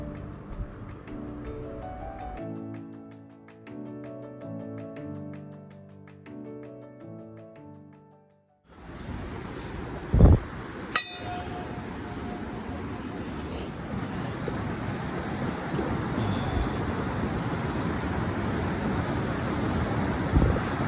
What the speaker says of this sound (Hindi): ये है अपनी गंगा नदी जो कि यहाँ पे भागीरथी के रूप में बह रही है